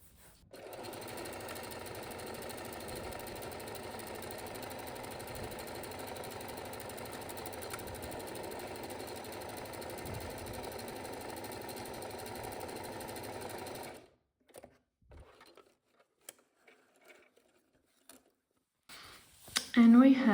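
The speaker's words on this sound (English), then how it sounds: "First I'm gonna align my buttonhole maker." A sewing machine with a buttonhole attachment stitches a buttonhole in a fast, even, close mechanical whir for about fourteen seconds, then stops, leaving scattered soft clicks and handling noises.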